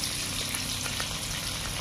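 Pieces of rohu fish fry in oil with a dense, continuous sizzle and occasional soft pops, close and steady throughout.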